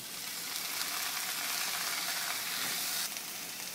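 Tomatoes sizzling in a hot pan for chana masala, a continuous bright frying hiss with light stirring, close and steady, no voices.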